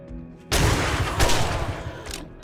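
Shotgun blasts at zombies in the survival game 7 Days To Die: a loud boom after a brief quiet start, a second blast about a second later, and a fainter third near the end.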